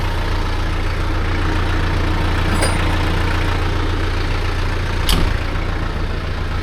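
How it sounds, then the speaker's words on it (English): A backhoe's diesel engine idling low, a steady loud droning rumble that runs unbroken throughout with a faint clank or two, close by and without speech. "I'm just gonna leave it at a low"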